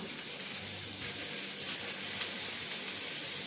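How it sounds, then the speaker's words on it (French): Meat sizzles steadily in a hot pan, a bright continuous hiss and crackle with small spattering pops, close and even throughout with no talking. "je vais finir la cuisson de la viande"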